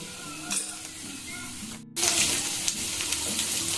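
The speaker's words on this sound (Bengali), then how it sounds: "জিরেটা দেখুন একটুখানি বেশ সুন্দর ভাজা হয়ে গেল" Cumin seeds frying in hot oil with onions, a steady close sizzle that cuts out briefly and returns louder, with no talking.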